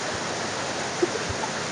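A waterfall pours from high above in a steady, dense rushing roar that stays constant and close throughout, with no talk.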